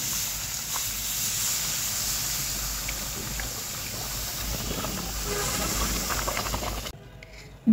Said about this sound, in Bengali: এখন এখানে দিয়ে দেব দুধ।